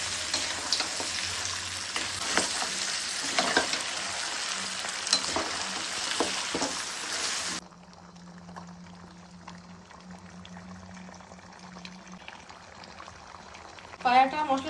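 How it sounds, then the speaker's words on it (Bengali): Beef or goat trotters fry with spices in a pot, making a loud, crackling sizzle with stirring for about half the time. The sound then drops abruptly to a much quieter, muffled background. "এখন এই পায়াগুলো মশলার সাথে ভালো করে কষিয়ে নিব।"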